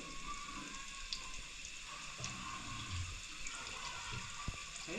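Spices and chili powder roasting in hot oil for a dhaba-style village chicken curry, a steady soft crackle and hiss close by, continuous throughout with no talking.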